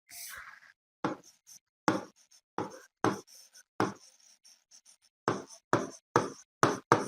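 A pen writes an answer on paper during a Bengali lesson, giving a run of short, close scratchy strokes and taps with brief pauses between them and no voices.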